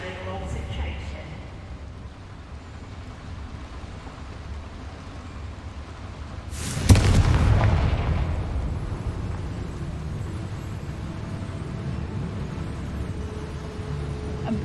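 A Confringo fire spell bursts with a single loud explosive blast mid-clip in Hogwarts Legacy, followed by a rumbling decay over ambient background, with a voice speaking earlier.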